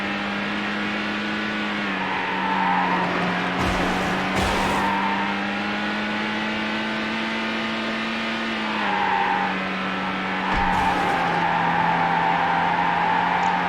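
A race car engine drones at a steady high pitch in Need for Speed Hot Pursuit 2, dipping briefly under braking twice with short bumps and scrapes, then climbing back up, loud and continuous.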